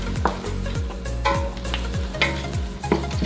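Garlic sizzles in butter in a pan while a spoon stirs it in quick, regular scraping strokes, close and fairly loud.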